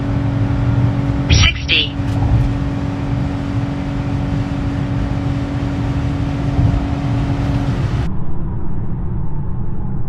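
A 2025 Ford Maverick truck accelerates hard from a standstill with a loud, steady engine roar and rising whir heard from inside the cab, while someone speaks briefly.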